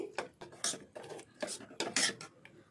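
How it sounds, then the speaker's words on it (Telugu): A spoon scrapes and clinks against a pan while gongura chutney is stirred, a run of short, irregular metallic strokes close by with no voices. "ఆయిల్ తీసి పైకి చేయలేంత వరకు గోంగూరను బాగా కలుపుకోవాలండి"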